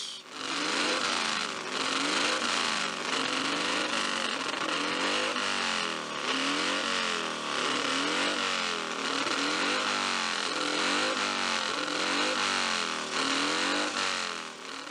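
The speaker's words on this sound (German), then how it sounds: "Alfred Stöcker mit seiner BMW RS 54." Vintage BMW RS 54 racing motorcycle engine at a classic bike event, a loud, continuous buzzing roar with repeated rising and falling revs, dense and close over the whole span.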